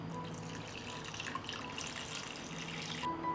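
Tap water runs steadily into a cooking pot holding jars set on a cloth, filled up to lid height for pasteurizing; a continuous near splashing flow with no talk.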